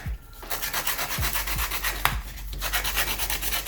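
Sandpaper is rubbed briskly back and forth over a wooden blending stick, producing a close, loud, rhythmic rasping with regular strokes throughout.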